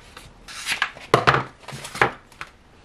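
Heat transfer vinyl sheet being trimmed for an iron-on tote bag, heard as several close, crisp cutting and scraping strokes in an uneven rhythm, with no voices.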